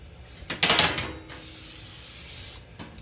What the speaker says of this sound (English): today I'm just gonna do it the quick way and use the cooking spray